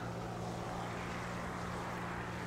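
A Ta-152H1 propeller fighter's engine in the War Thunder video game drones steadily, a constant dense roar with a low hum throughout, no pauses and no talk.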